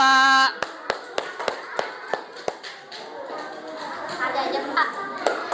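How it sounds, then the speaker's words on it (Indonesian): Scattered, fairly sharp hand claps from a small classroom group applauding group 2 after their presentation, coming in an uneven, loose rhythm that slowly thickens into a soft murmur of children's voices. "Tepuk tangan untuk kelompok 2"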